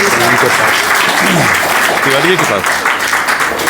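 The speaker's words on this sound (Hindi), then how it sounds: "जोरदार तालियां से स्वागत होना चाहिए" Loud, close applause from a seminar audience welcoming students for a Saraswati Vandana performance, with voices talking over the clapping.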